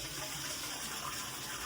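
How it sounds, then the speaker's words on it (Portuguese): Water runs in a steady, even stream from the small sink built on top of a Japanese toilet tank after a flush, a soft continuous splash heard fairly close in a quiet room with no voices. "Quando dá descarga, Ele aciona a pia."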